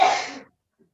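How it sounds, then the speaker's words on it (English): A woman sneezes once, a loud close burst that tails off within half a second and leaves near silence. "we know she's just sneezing for attention"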